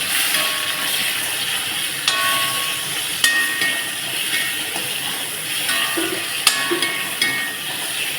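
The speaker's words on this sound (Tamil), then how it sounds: "போட்டு நல்லா ஒரு வதக்கணும்." Mango pieces and ingredients sautéing and sizzling in a pan for Srirangam-style Devasa samayal, a continuous bright fry with occasional clanks of a ladle against the metal, no talk.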